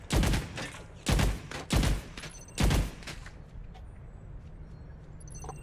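Gunfire from a weapon in the video game Overwatch during a ranked match: four loud, sharp shots in an irregular rhythm over about three seconds, then quiet background game ambience with no talking.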